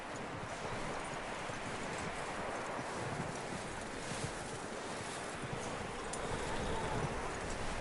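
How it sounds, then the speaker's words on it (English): Horse hooves clip-clop steadily in Red Dead Redemption 2 on PS5, a continuous close walking rhythm over a dense rustling, wind-like outdoor ambience with no talking. "Looks like a decent horse. You should keep him. Get that horse hitched."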